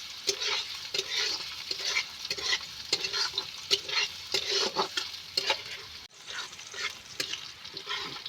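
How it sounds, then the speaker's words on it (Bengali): Chopped onion frying in a pan while a spoon keeps scraping and turning it, a crisp sizzle broken by regular rhythmic stirring strokes, close and moderately quiet, with a brief dropout near the end and no voices. "পেঁয়াজটা আমি নেড়ে চেড়ে এইভাবে খুব সুন্দর মতো কষিয়ে নিয়েছি"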